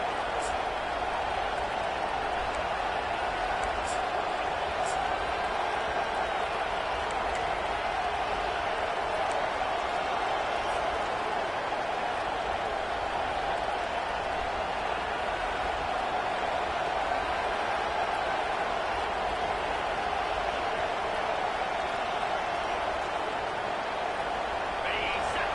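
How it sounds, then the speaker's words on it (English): A football stadium crowd roars steadily and loudly for the whole stretch, a dense, unbroken wall of noise with no pauses. "This crowd, full throat, splitting the eardrums and letting them know it's going to be a long day."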